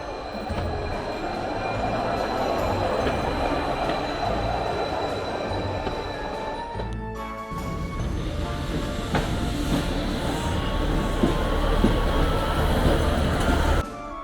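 Steady rumble of a train running on rails toward Mallaig in the Scottish Highlands, continuous and close, with a brief dip in the noise partway through before the rolling resumes.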